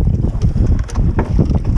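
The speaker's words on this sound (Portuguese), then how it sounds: "Debaixo de 25 km de vento" Strong wind of about 25 km/h buffets the microphone on the Tietê River at Borborema, São Paulo, with waves slapping a fishing boat; a loud, continuous roar and rumble with gusty swells throughout, no voices.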